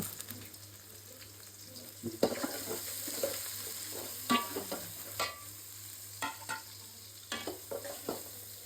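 Onions frying in a pan while a duck curry is cooked, with scattered stirring clatters and soft crackles over a low steady hum, close by and fairly quiet.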